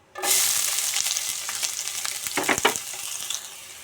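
Onions drop into hot oil already crackling with bay leaf and whole spices for a paneer green peas masala curry, giving a sudden loud burst of sizzle that settles into busy crackling with stirring scrapes.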